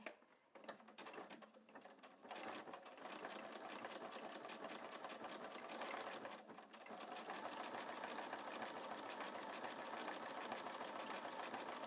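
A sewing machine fitted with a wing needle runs a wide stitch, starting with a few short bursts before settling into a continuous rapid mechanical whir, close and steady with a brief pause midway.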